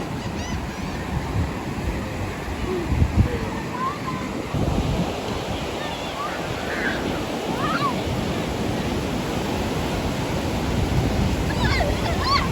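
Surf rolling onto an Atlantic City, New Jersey beach, a steady wash of waves with wind buffeting the microphone, constant and fairly loud, with faint bird calls above and brief voices now and then.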